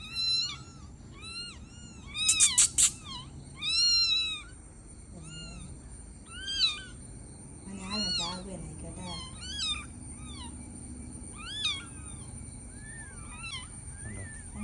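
A cat meows repeatedly, several drawn-out high calls spread across the clip, with a few louder bursts early on and faint background noise.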